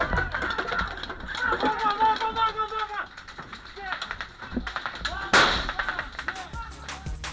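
Gunfire rings out during an assault exercise on a hijacked aircraft. Sharp bangs and rapid cracks mix with a loud voice speaking over them.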